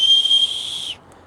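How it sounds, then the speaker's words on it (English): An aftermarket emergency whistle worn on a lanyard gives one loud, shrill, steady blast lasting about a second, then cuts off abruptly. "this is an aftermarket whistle, and I have it on my lanyard"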